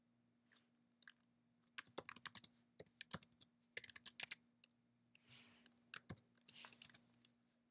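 Fingers type on a computer keyboard while entering a Linux command, giving irregular bursts of crisp key clicks with short pauses between words. The clicks are quiet and close, and nobody speaks.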